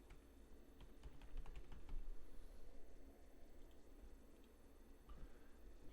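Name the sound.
typing an administrator password on a computer keyboard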